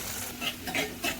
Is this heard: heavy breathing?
no